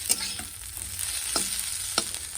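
Potatoes fry in a pan, giving a soft, steady sizzle with a few sharp stirring scrapes, heard close and alone without any voices.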